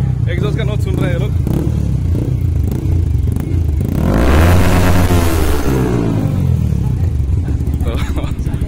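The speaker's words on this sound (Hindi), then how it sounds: "एग्जॉस्ट का नॉट सुन रहे हैं लोग।" A parked motorcycle's exhaust is revved hard and close, climbing into a loud roaring surge mid-way before falling back to a rough, throbbing idle, with people talking over it.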